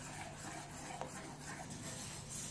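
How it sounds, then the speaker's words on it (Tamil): Custard is stirred without pause into boiling milk in a pan, a faint, steady scraping swirl with a soft simmering hiss beneath. "கைவிடாமல் கிண்டணும், இல்லைண்டா கட்டி கட்டியாக போயிடும்."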